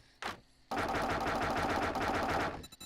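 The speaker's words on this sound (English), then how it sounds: "I hear the firecrackers going right now" Firecrackers going off in 7 Days to Die, a dense rapid crackling burst lasting about two seconds after one short pop, loud and close with no voices.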